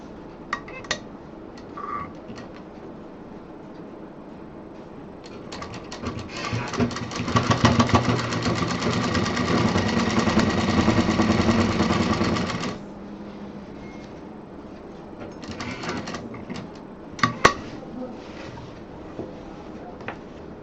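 A sewing machine stitches a synthetic fabric belt for a folding tour bag in a fast, steady mechanical whirring run of several seconds, close and fairly loud, with short bursts and handling clicks before and after.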